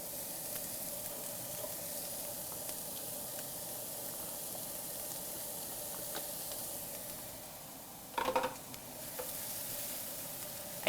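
Shallot, garlic and ginger sizzle in a hot pan for pineapple fried rice, a constant close frying hiss with a few light clicks and a short clatter of stirring near the end, no talking.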